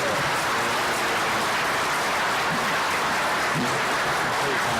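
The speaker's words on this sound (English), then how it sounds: "Let's give them all a round of applause." Audience applause fills a comic convention panel room, a dense, steady wash of many hands clapping at full volume for several seconds, with no voices over it.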